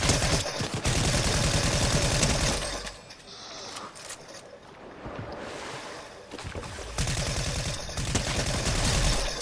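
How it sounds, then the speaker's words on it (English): Rapid bursts of SMG fire in Fortnite, loud and sustained, clustering at the start and again at the end with a quieter stretch of background noise between. "Gotta aim better with the damn SMG."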